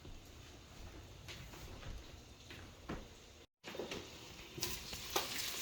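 Pork belly sizzling in a pan as it is stirred, a low steady frying hiss with scattered scraping clatters of the utensil and one brief dropout midway.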